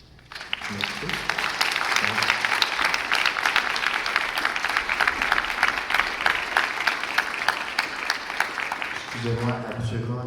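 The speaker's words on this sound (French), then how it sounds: "les applaudissements sont proscrits" Applause from an audience at a city borough council meeting swells into a sustained, dense burst of clapping that runs for about eight seconds, with a voice briefly heard at the start and another person speaking at the end.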